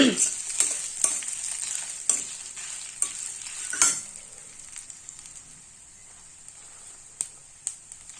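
Cumin, coriander seeds and curry leaves sizzle in hot oil for a potato fry, a bright steady crackle punctuated by the sharp clinks of a stirring spoon, then easing to a softer sizzle.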